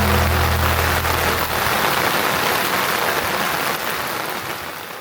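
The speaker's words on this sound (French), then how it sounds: "je sais pas si vous entendez, mais il pleut de fou" Heavy tropical rain pouring down in Bali, a loud dense continuous hiss of drops on surfaces, with a low rumble fading early and the downpour easing slightly toward the end.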